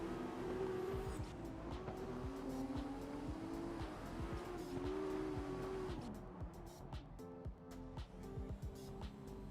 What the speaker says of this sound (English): Come on, car, spin the wheels.